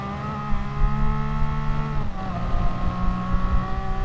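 An N300 race car engine held at full throttle on Dragon Trail Gardens in a racing game, a loud steady high-pitched whine with one brief gear-change dip midway before the pitch climbs again.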